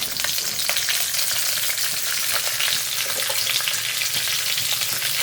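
Green chillies and a channa dal gravy base sauté in a pan, giving a dense, steady, close crackling sizzle with faint stirring and no voices.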